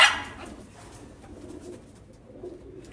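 Pigeons at a rooftop loft give soft, low cooing in the background after a brief sharp rustle at the start, the murmuring faint and steady.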